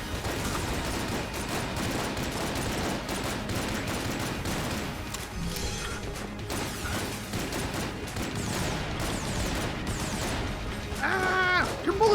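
Dense, nonstop gunfire from the video game Enter the Gungeon fills the whole stretch, with rapid shots blurring together over layered game effects and bright chiming blips near the end.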